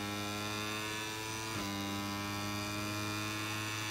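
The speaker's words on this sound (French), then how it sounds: "Oh, la clim." An air conditioner gives off a faint, steady low hum that drones on without change, with a soft click partway through and no voices.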